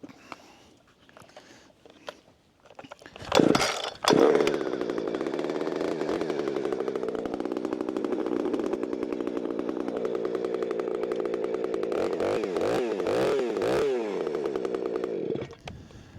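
Chainsaw with a .325 7-pin sprocket and semi-chisel chain starts with a few pull-cord tugs, then roars close and loud into dead oak, holding a steady buzzing cut with wavering load and revving near the end before cutting off.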